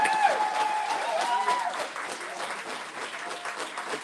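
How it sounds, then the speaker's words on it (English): Audience applause at an awards event, a room full of clapping at moderate level with a few whoops early on, continuing steadily without speech. "So I want you all to give Troy Washington a thunderous round of applause, please."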